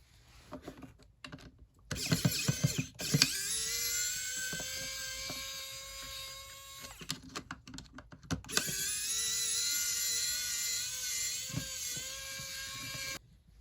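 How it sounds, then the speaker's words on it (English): Small screws are backed out of a Gemmy animated Rocky Balboa figure with a whirring powered screwdriver in two sustained bursts, with clicks and handling noises between them, close and fairly faint. "to get the body off on Rocky, we need to go ahead and take these 2 little screws out that are right here"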